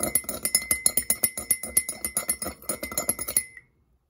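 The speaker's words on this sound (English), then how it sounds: "Let's see what happens if I stir up the sand." Sand is stirred in a cup of water, and the spoon clinks rapidly and repeatedly against the glass in an even, quick rhythm for about three and a half seconds before stopping.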